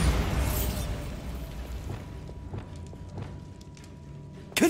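A Bombarda spell explosion in the video game Hogwarts Legacy: a loud burst at the start that decays into a rumbling tail, with scattered faint clicks and a sharp hit right at the end.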